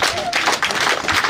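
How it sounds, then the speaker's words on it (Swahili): An audience claps at the launch of Makueni ATC college, a dense, steady round of applause that fills the whole short stretch, with crowd noise and voices mixed in. "tumpe makofi"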